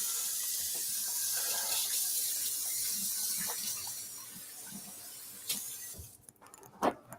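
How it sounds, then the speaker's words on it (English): Hands washed under a running kitchen tap, a steady close hiss of water that tapers off as the flow stops, followed by a few small drips and clinks, with no talk. "Let me just wash my hands."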